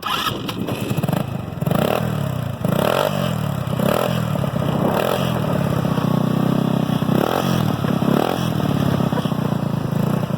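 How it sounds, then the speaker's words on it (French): A prepared 125cc Chinese scooter exhaust revs up and down repeatedly, loud and close, with rising and falling engine pitch and some rattling. "je vais vous faire écouter le bruit du pot"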